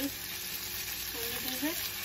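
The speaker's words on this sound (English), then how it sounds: "now I'm adding 1 tablespoon of ginger garlic paste and fry" Ginger garlic paste frying in a pan over onions, a steady faint sizzle and crackle with a few light stirring touches, no voices.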